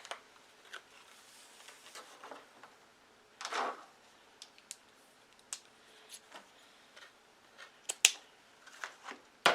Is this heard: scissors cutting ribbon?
yes